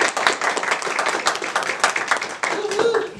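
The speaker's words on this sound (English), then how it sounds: "I think we ought to give them a round of applause." Round of applause at a county board meeting, a crowd clapping in dense rapid claps for about three seconds with a brief dip near the end and some murmuring underneath.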